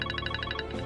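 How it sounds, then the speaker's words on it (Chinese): A phone rings indoors with a rapid, warbling electronic trill of evenly spaced pulses, steady and fairly loud. "电话响了"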